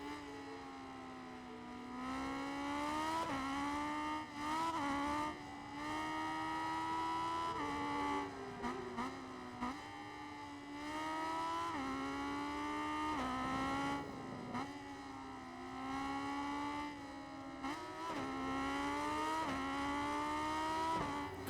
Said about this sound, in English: Just revving this shit out of this thing.